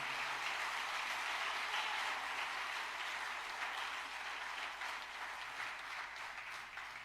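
Sustained applause from a church congregation during a sermon, a dense, even wash of many hands clapping together, steady and fairly distant for several seconds.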